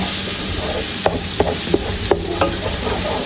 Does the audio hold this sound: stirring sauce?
yes